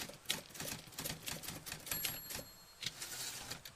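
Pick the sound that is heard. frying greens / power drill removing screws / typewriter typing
typewriter typing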